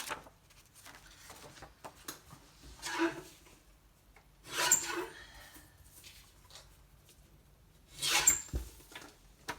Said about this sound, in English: let me trim the top first